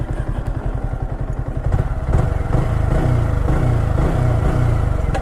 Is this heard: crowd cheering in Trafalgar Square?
no